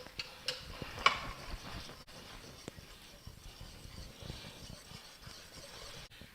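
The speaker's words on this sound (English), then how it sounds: "Now we're just going to take a whisk and whisk it all up together to get everything all nice and mixed in there." Whisk stirring yogurt starter into milk for homemade yogurt in an Instant Pot, soft irregular ticking and scraping strokes close by, faint and continuous with a few sharper clicks.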